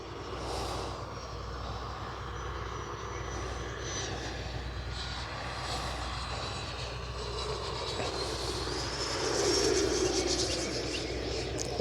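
An E-flite 90mm Viper RC jet takes off from a club runway and flies, its electric ducted-fan whine holding steady and loud throughout, rising slightly toward the end as it passes.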